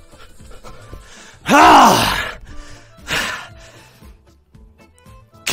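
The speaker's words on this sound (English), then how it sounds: "all you can hear is him breathing while he tries to play the game" A streamer breathes heavily while playing a VR rhythm game, with a loud groaning exhale followed by a shorter gasp, then quieter panting in a fairly silent room.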